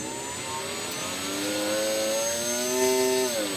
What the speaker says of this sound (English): Oh, we better test the motor here real quick.